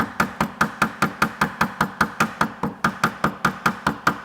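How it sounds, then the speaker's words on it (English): A hammer taps a Vespa P200 part on a workbench, mushrooming it flat: about twenty evenly spaced, sharp, loud metallic strikes in a steady fast rhythm, close and alone. "Tap for a while until this basically mushrooms all the way flat."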